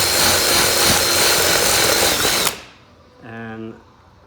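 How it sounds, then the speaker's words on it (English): A power drill whines loudly and steadily as a bit drills off rivet heads on a Seadoo splash guard, then stops abruptly, leaving a short rattling hum. "have like a drill bit big enough to drill off the head"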